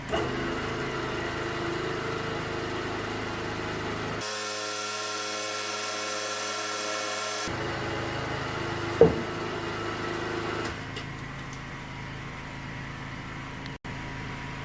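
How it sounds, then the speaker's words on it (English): A steady, loud mechanical whine of a guarded drill running continuously, its pitch shifting as the bit bites into metal, with a sharp clank partway through. "We've now got a bigger drill bit to go through the centre"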